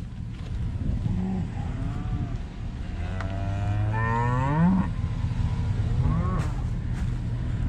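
Simmental-bred cattle moo on a farm during mineral feeding, several long drawn-out calls of varying pitch at moderate distance, over steady outdoor rumble and background noise.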